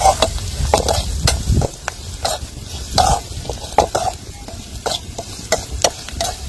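A ladle scrapes and stirs snails frying with ground spice powder in a village-style pan, loud rhythmic metal scraping over a steady sizzle.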